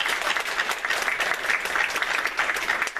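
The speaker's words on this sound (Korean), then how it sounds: "환영의 박수 한번 하도록 하겠습니다." A church congregation at a Korean Sunday worship service claps in welcome for a returning member, a brief, even burst of many hands close by.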